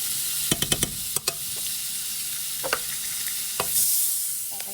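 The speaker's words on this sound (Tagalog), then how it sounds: "magigisa naman tayo ng sibuyas, bawang, tapos yung iba." Onion and garlic sauté in a pan, giving a gentle sizzle broken by a quick run of sharp spatula clicks near the start and a couple more scrapes later, all fairly close and with no speech.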